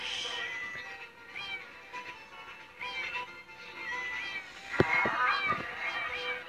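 A cat in the online game Cat Sim Online meows repeatedly, bright, near cries in a loose irregular rhythm, the last few louder and sharper.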